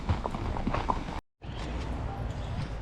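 Horse hooves clip-clop at a steady walking pace during a horse ride in Mallorca, Spain, fairly close, with outdoor noise around them and a brief cut in the sound partway through.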